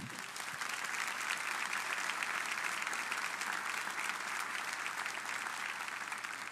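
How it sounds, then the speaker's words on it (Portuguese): A church congregation at a Portuguese-language sermon breaks into steady, dense applause that holds at an even level from start to finish, with no speech over it. "Você pode aplaudir ao Senhor."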